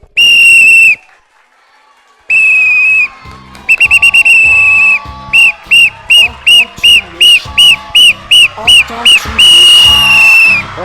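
A referee's shrill whistle blasts loudly several times at a holiday camp semi-final, then a rapid series of short, rhythmic toots, ending in a long sustained blast.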